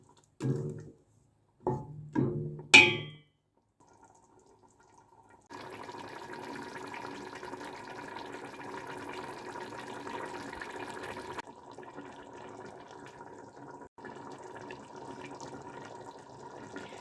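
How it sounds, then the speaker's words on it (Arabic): Water poured into a pot of frying harira, a few short knocks and clatters first, then a steady rushing pour that runs for several seconds and continues a little softer, close by. "صافي دابا غادي نسقي"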